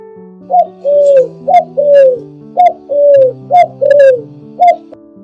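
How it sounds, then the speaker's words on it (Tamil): A pigeon coos loudly and close by, a repeating pattern of short and drawn-out calls in quick succession, set over a soft sustained musical tone. "புறா ஒரு அமைதியும் அன்பும் நிறைந்த பறவை."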